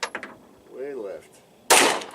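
A 9mm pistol fires a single sharp, loud shot at a car door near the end, after a few short sounds and a brief voice.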